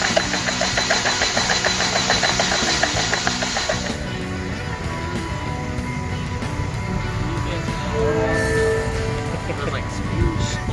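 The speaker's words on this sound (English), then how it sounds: "I'm gonna crank it over and try get everything out of there." A hydro-locked 2009 Toyota Yaris engine churns as it is cranked over, a loud rapid mechanical chugging that lets up partway through, mixed with background noise and shouted voices.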